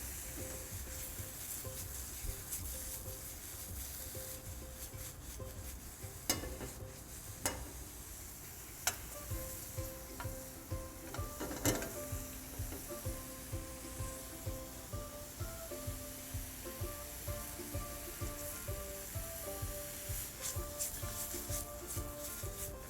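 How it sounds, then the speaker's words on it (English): Mushrooms sizzle in a pan for a chicken Marsala, a steady close frying hiss with rhythmic scraping and stirring ticks running throughout, no voices. "And mushrooms do reduce a bit as they cook."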